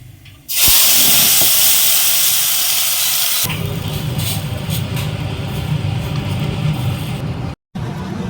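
Mustard seeds and ground chilli, ginger and garlic masala hit hot oil in a kadai, bursting into a loud, close, continuous hiss that settles into a steady sizzle, with no talking.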